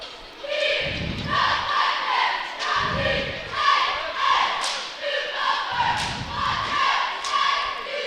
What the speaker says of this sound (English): you see across the way, they're a great Blackcat crowd